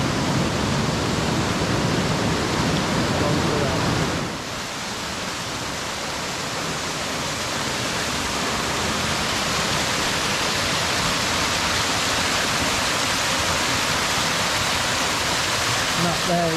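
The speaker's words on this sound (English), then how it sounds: "Here's your main river" Steady broadband rush of river water flowing along a diverted leat channel at Kennall Vale, a woodland nature reserve and former gunpowder works, heavier and more turbulent for the first few seconds, then a smoother continuous flow.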